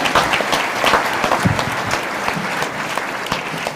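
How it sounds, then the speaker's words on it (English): A live show audience gives a big round of applause for Tara, a young entrepreneur, with loud, crisp clapping that peaks early and then tapers slightly while staying steady. "let's give a big round of applause for Tara"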